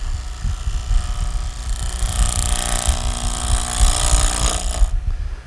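Steady mechanical whir of a wood lathe with a rough, grinding noise of a light cut across end grain layered on top, continuous and fairly loud throughout.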